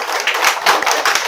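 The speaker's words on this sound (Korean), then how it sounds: "박수 한번 칩시다" A church congregation claps together in a brief, loud burst of quick, dense applause.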